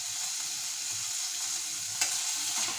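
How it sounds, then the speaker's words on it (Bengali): Chopped tomatoes with a little salt fry in a pan, a continuous close sizzling hiss with a brief louder crackle partway through and no talking. "এইবারে টমেটোটাকে একটু ঢাকা দিয়ে আমি হালকা করে ভাজা ভাজা করে নিচ্ছি।"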